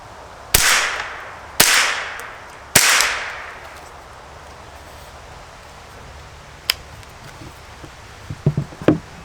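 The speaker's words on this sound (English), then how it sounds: "Same subsonic ammo, and now we do not have the suppressor on the end." Unsuppressed .22 LR rifle firing subsonic ammunition outdoors: three sharp, loud cracks about a second apart, each trailing a short echo, then a lone fainter snap and a few scattered small clicks and knocks.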